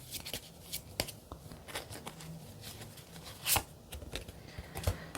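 Tarot cards are shuffled by hand during a reading: soft, quiet riffling and papery slaps in irregular bursts, with a few sharper flicks standing out, close up and without talk.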